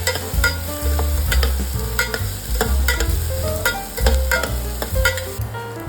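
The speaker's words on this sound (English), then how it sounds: "Saute this till the raw aroma of capsicum goes off." Onion, green chilli and capsicum sauté in a hot pan for pav bhaji, a loud continuous sizzle broken by repeated spatula scrapes and knocks against the pan.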